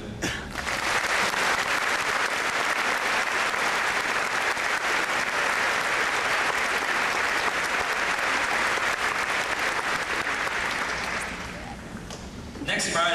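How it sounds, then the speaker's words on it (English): A sustained round of audience applause at a matriculation ceremony, dense steady clapping from a large crowd that fades out near the end. "I'd ask that you join me in showing my appreciation for them with a round of applause"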